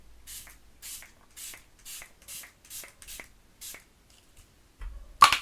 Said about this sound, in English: And then we're gonna use our setting spray a while ago.